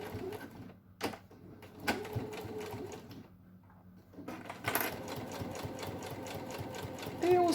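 Sewing machine stitching a seam on a school pencil case, starting and stopping with short bursts before running steadily with a fast rapid clatter, close and fairly quiet, with someone speaking softly at times.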